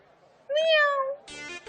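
A person imitates a cat with a loud, drawn-out meow-like call, followed by a shorter, buzzier nasal cry, with no other talk.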